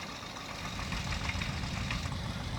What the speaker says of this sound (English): They're starting to fire up those tractors.